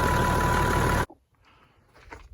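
A Peterbilt 359 truck engine idles during a restoration, a loud, steady drone that cuts off abruptly after about a second, leaving near silence with faint rustles.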